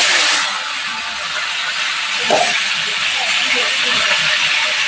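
Fish heads sizzle in hot oil tempered with fenugreek seeds after potatoes are fried, a loud steady hiss of frying with a brief clatter midway.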